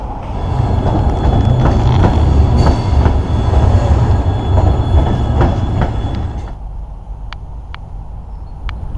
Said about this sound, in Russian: Поезд сейчас с минуты на минуту должен выехать он из того тоннеля.